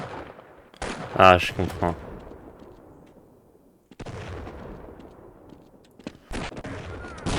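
Gunfire in the video game Half-Life: a loud burst of shots near the start, then more sharp reports and rattling bursts later, with someone talking over parts of it.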